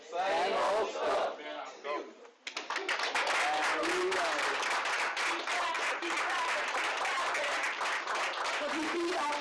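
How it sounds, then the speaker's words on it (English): An open mic night audience clapping, a loud burst of many hands after a short pause, with cheers and voices mixed into the sustained applause. "everybody keep clapping out there for the endure"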